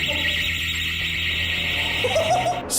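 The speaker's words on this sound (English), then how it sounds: "things get real when they set an alarm off after yanking open one particular door" A loud, continuous electronic alarm blares steadily after a door is yanked open, a shrill sustained tone with a brief scrape or voice-like noise near the end.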